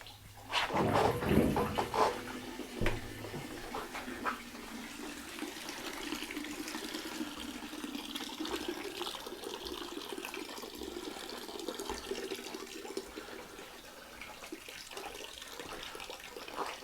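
Melted wax drains steadily from a tipped wax melter while rendering beeswax, a continuous close liquid trickle and pour, stronger and splashier in the first few seconds, then settling into an even flow.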